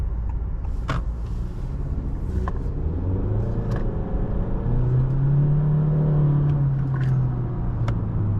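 Engine of a 2023 Honda Accord EX with a CVT and 192 horsepower rises in pitch as the car accelerates, heard from inside the cabin as a steady rumble and whir with road noise.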